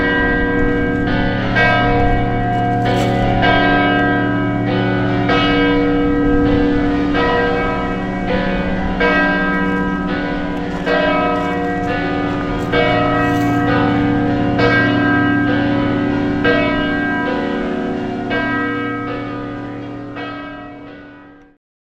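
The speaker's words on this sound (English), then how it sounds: "2 bells." Church bells in Chartres ring loud and resonant in a continuous, overlapping peal of rhythmic strikes. The tones linger and build for about twenty seconds before fading out.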